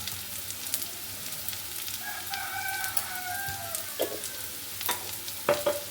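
Vegetables sizzling in a pan with turmeric, a soft steady fry hiss with occasional stirring scrapes and clinks, fairly quiet and close, with a rooster crowing faintly in the background.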